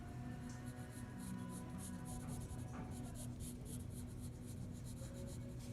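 A pencil going over sketched lines on paper while drawing an eye, giving a soft, steady scratchy stroking that runs continuously under a faint background hum.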